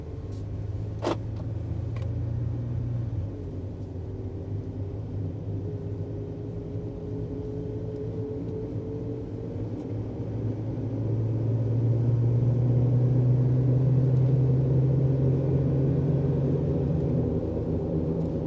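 A supercharged 2020 Jeep Wrangler drives at low speed, its steady engine drone heard from inside the cabin and growing a little louder midway as it accelerates, with no talking.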